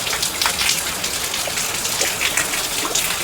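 Steady monsoon rain falls outdoors as a dense, even hiss of drops with faint spatters and trickles, close and constant throughout, with no talk.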